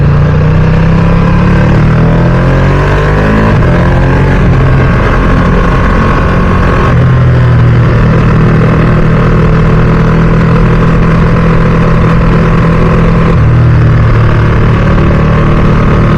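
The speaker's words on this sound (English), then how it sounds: "this is a standard exhaust, but it's quite loud." A Ducati Streetfighter V2 motorcycle with its standard exhaust rumbles and idles loudly up close, its deep exhaust note swelling with a couple of throttle blips.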